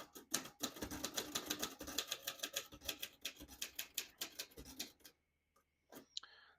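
A 1949 Royal Quiet De Luxe portable typewriter clacks in a fast, close run of key strikes, then falls quiet before a couple of sharp mechanical clicks as the ribbon switch is moved.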